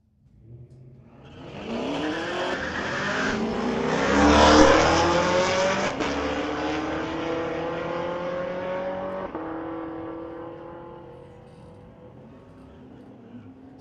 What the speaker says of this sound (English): Whole bunch of wheel spin up front, rolling through the gears in that 2017 Camaro, Cam Penner